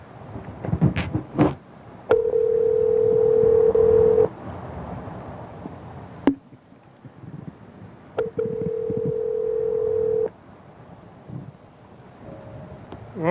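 A phone dials out, with two long steady tones each lasting about two seconds separated by short clicks and brief noise, then a faint answering-machine style beep near the end.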